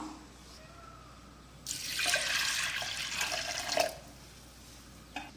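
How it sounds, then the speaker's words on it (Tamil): Water pours from a vessel into a pot of lentils for cooking dal. A steady splashing gush lasts about two seconds, fades out with a few drips, and plays in a quiet kitchen. "இதுக்கு இந்த பருப்பு வேக தேவையான தண்ணியை ஊற்றிக்கலாம்"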